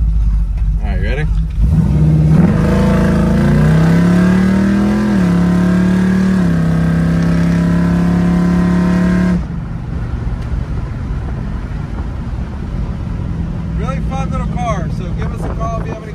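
A 1978 Chevrolet Malibu street/strip car launches hard, its engine revving loud and close, climbing and then holding a high roar for several seconds before cutting off abruptly to quieter background noise.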